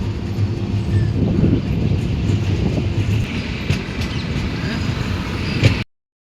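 A passenger train rolls out of Jammu toward Katra, a steady close rumble of wheels on rails with faint clatter, continuing evenly before cutting off abruptly.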